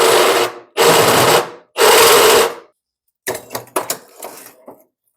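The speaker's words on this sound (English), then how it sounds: "cheat and use a countersink bit. Well, let's try that next" A countersink bit drills into a hole in a steel S10 truck frame in short, loud, close bursts: three sustained grinding runs, then a quieter series of brief scraping cuts.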